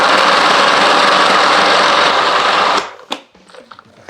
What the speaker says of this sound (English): So add it all into your food processor.